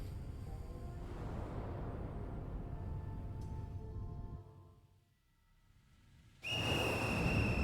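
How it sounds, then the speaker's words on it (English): A monster in the Ghostwire Tokyo Prelude video game blows a whistle, giving a bright, sustained shrill tone that cuts in suddenly over low rumbling ambience after a quieter stretch. "Monstrous little raincoat visitor blows his whistle"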